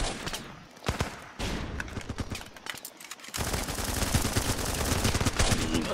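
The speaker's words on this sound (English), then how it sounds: "Shotgun too powerful." Shotgun and other gunfire in Running with Rifles, loud repeated shots in quick bursts that become a near-continuous barrage toward the end.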